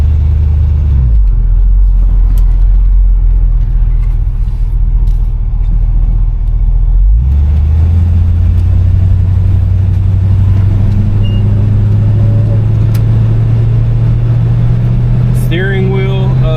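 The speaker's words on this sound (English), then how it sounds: "And overall driving, the throttle is responsive." A 1968 Chevrolet Impala convertible on the road, its engine a steady low rumble that rises in pitch as the throttle opens, loud and close with wind noise, while someone talks over it.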